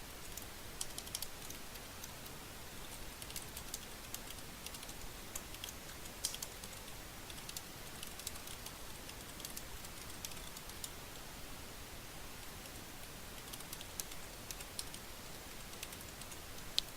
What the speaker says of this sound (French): Et je tape mon texte.